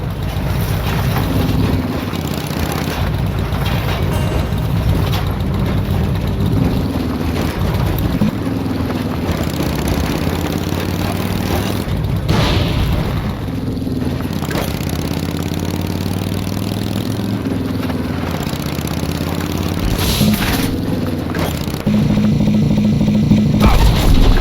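A Fallout 3 video game motorcycle engine rumbles steadily with changing revs, accompanied by continuous rough road noise from wasteland terrain and occasional bumps, loud and close throughout.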